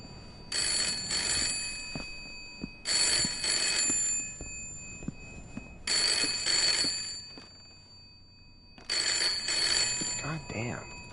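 An old-fashioned telephone bell rings loud and close in four long bursts with short pauses between them, inside the horror game Layers of Fear, and someone talks over it.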